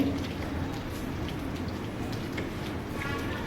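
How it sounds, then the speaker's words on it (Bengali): Steady rain falls throughout, a dense patter of drops with occasional louder ticks from drops striking a nearby surface. "বাইরে দেখো কেমন বৃষ্টি হচ্ছে"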